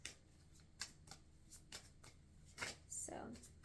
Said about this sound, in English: These cards have not been shuffled as much as the other ones.